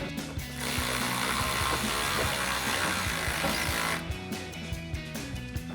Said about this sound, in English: We'll tighten that down with our T15 Torx bit.